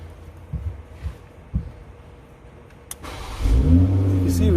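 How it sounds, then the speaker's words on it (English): A 2020 Toyota Supra's engine cranks and fires up near the end, settling into a loud, close idle after a few faint clicks and thumps from the cabin; a voice is briefly heard. "we're going to start the vehicle again"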